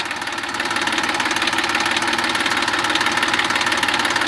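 A Massey Ferguson 241 DI tractor, a 41 HP five-gear model, idles in neutral with a steady, rapid diesel chug and knocking vibration. It sounds close and constant, with no voices.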